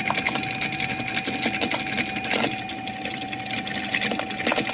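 A flywheel ringed with electromagnets spins up on 3-phase power, giving a steady mechanical whir with a constant high hum and light rattling, close and continuous.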